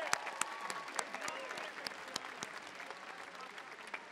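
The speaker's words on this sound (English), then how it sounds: "Give yourselves a round of applause." Graduates at a high school graduation ceremony applaud themselves in a steady, dense wash of clapping with a few sharper claps standing out near the start, continuing evenly throughout.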